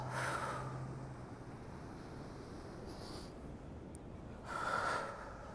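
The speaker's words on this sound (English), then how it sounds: "Let's breathe. Inhale and exhale." Slow breaths drawn in and let out during a gentle morning Pilates routine, two soft airy swells at the start and end, close and quiet, with no talking.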